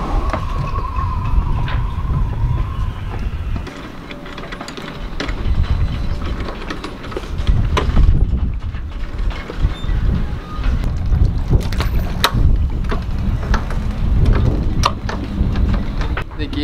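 A new outboard engine on a small 2.4-metre dinghy runs at a steady drone under heavy wind and water rush as it speeds along, with occasional splashes.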